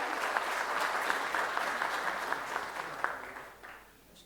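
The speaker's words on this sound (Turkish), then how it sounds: "kürsüye arz ediyorum güçlü alkışlarınızla" Audience applause at a panel welcomes the president of an Alevi-Bektashi cultural and cemevi association to the podium, a dense, steady crowd clapping that fades toward the end.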